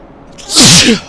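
A single loud, close sneeze brought on by allergies, with a sharp breathy burst and a brief voiced tail, alone in an otherwise quiet indoor setting.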